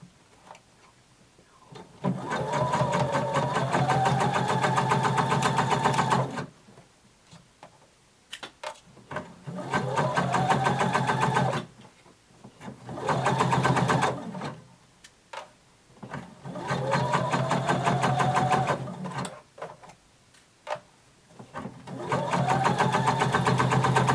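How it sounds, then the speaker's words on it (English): A sewing machine stitches all the way around a bodice starting at the shoulder, in five or six whirring runs of a few seconds each, separated by short pauses with clicks and fabric handling. "Starting at the shoulder, sew all the way around."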